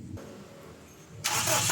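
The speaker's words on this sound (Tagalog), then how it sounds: "pa-start ko na itong makina" A Toyota Revo engine cranks briefly after an automatic transmission fluid refill, then catches and roars to life loudly and close by, settling into a strong running sound.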